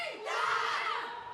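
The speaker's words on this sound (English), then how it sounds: "The crowd have been G'd up." A women's rugby crowd at France versus Italy in the Six Nations cheers and shouts as the Italian team walks out, a brief, swelling roar of many voices.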